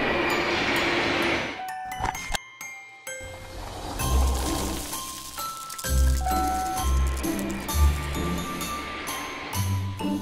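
A bullet train rushes past with a deep rumbling roar, joined by jingling, bell-like tones. After a brief near-silent gap the heavy low pulses rise and fall as it goes by.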